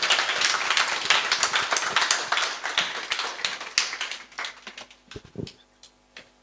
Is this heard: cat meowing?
no